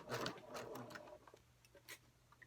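A sewing machine stitches a fabric basket in a close burst of rapid mechanical whirring that runs about a second, then gives way to a few short, quieter clicks and stitches.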